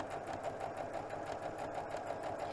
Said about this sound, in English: Turn the pillowcase. Put the presser foot down. And start sewing.